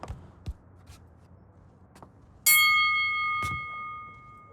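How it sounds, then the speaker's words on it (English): A small bell in the Blacksad: Under the Skin video game is struck once, ringing out with a bright, sustained tone that slowly fades, preceded by a few soft thuds and shuffling steps. "Maybe we can hit the little bell over here."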